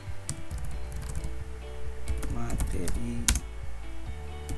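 Typing on a computer keyboard: close, quick clusters of light key clicks and taps, irregular in rhythm, with a low background hum and no speech.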